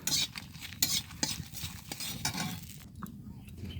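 Dried red chilies toasting in a hot kadai wok with a pinch of salt, stirred with a metal utensil: close, irregular scrapes and clinks against the pan over a steady soft sizzle and crackle, with no talking.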